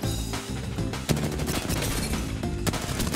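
Rapid gunfire in a video game, a dense barrage of loud close shots with heavy booming low end, continuous for a few seconds with brief gaps.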